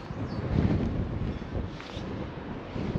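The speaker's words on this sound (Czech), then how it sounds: "Celkem dost tady fouká teda." Strong wind gusting across an open lookout tower on a hilltop, a steady broadband roar buffeting the microphone close up, swelling and easing slightly throughout with no speech.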